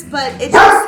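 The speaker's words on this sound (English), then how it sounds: "that's my dog barking because he's saying that I should read it" A dog barks once, loud and close, right after a person's speech.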